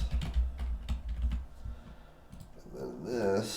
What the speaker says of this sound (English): let's type in or paste here.